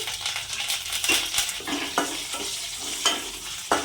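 Mustard seeds, cumin, garlic, dried red chillies and curry leaves crackle and sizzle in hot oil for a dal tempering, with repeated stirring scrapes and spattering pops close by.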